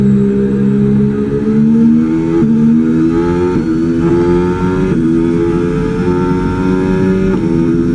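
The Williams FW47 Formula 1 car in the F1 25 racing game revs hard and loudly, climbing through gear after gear in repeated rising sweeps with quick drops at each upshift.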